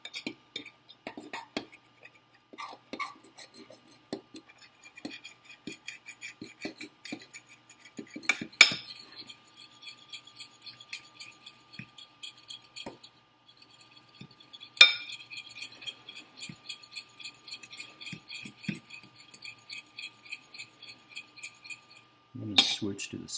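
A metal fork clinks against a cup while cacao is stirred into hot milk, a scatter of bright taps and scrapes of uneven rhythm with a couple of louder knocks, close by and fairly quiet.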